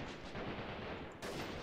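Dense, loud gunfire in a war video game, rapid overlapping shots forming a continuous crackling barrage with a brief dip before another sharp burst near the end.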